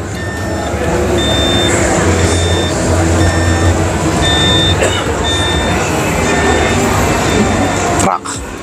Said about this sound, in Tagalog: Dongfeng electric truck.